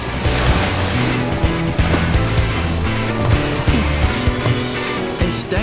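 Sea waves in the Final Fantasy XIV: Dawntrail teaser, a steady, loud wash of surf and open water, continuous throughout under a layer of music.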